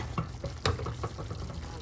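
Zucchini and carrots being stir-fried with pork and shrimp in a pan: a soft sizzle under a few distinct clinks and scrapes of a utensil stirring the pan, close and fairly quiet.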